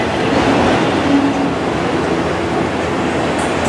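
Norfolk Southern freight train cars roll past close by in a continuous, even rumble with a rattling clatter of wheels on rails, no voices.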